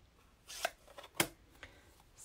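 Scissors cutting stamped card stock by hand, two or three short crisp snips with quiet pauses between, close and faint.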